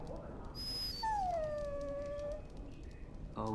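A dog whimpers in the video game Dragon Age Origins, one long, thin, drawn-out whine that falls slightly in pitch. It is close and clear over a low ambient game background, preceded by a brief high tone.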